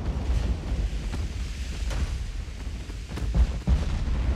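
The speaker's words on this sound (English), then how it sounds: "torpedo launch." Torpedo launch aboard a warship in the naval battle game Ultimate Admiral: Dreadnoughts, heard as a heavy low rumble of wind and sea noise with a few sharp thumping bursts near the end.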